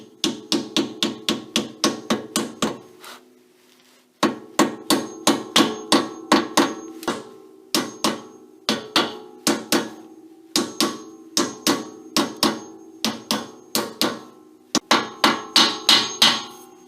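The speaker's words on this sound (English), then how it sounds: "we're going to take a hammer, kind of tap the backside in here" Hammer tapping a pinion seal into a Jeep Wrangler differential: repeated sharp metallic taps in quick bursts of about eight to ten strikes, with brief pauses between groups, close and clear with no talking.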